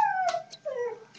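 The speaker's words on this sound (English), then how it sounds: "If you hear that, that's my dog." A dog indoors lets out a short, fairly faint howl with whimpering, rising and falling wavering tones across about a second, heard alone with no talk.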